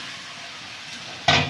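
Washed chicken pieces go into spice masala that has been fried until the oil separates. After a quiet low hiss, a sharp sizzle bursts out near the end.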